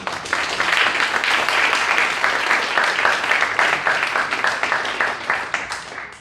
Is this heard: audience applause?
yes